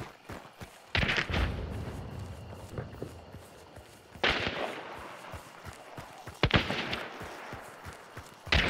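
Scattered gunshots in Hunt: Showdown at Stillwater Bend, several sharp reports at irregular intervals with a few near, loud bursts and fainter distant shots in between, over low ambient rumble and footstep-like thuds.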